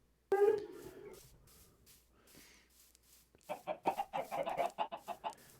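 Chickens in the Minecraft video game cluck in a quick burst of clipped, rhythmic game-sound clucks after a louder squawk at the start and a quieter stretch, with no voices over it.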